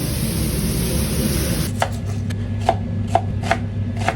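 A knife chopping chicken on a cutting board in a kitchen, a few sharp, separate chops in an uneven rhythm at close range over a steady background hum, with no talking.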